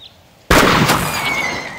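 A single sharp gunshot at a sheep cracks out suddenly in an outdoor war-drama scene, its loud burst fading into a ringing echo over about a second and a half.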